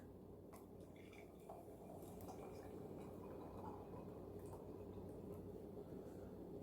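Hot water is poured into a cup holding a teaspoon of food grade Epsom salt. It gives a quiet, close, steady liquid fill lasting several seconds, with faint clinks of the cup.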